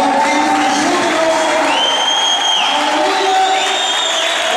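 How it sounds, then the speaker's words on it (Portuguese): A church congregation claps and shouts for joy during a worship service, loud dense applause mixed with cheers, whoops and rising exclamations from many voices close by. "se expressem com um aplauso e com um grito de júbilo"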